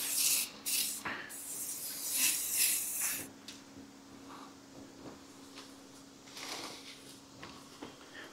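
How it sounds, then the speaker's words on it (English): Bursts of rattle-can spray primer hiss onto a car in short, close pulses, separated by brief pauses and faint handling noises. "Spray, make sure you get all your areas."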